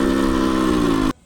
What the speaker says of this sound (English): So this sound that's coming from the engine combined with a very on-off friction zone in the clutch is really causing some issues